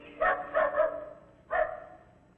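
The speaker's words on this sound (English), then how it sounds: "there's that dog again. You hear him?" A dog barks outdoors in an old 1949 radio drama: a quick trio of barks, a short pause, then one more, fairly close and clear with no talk over them.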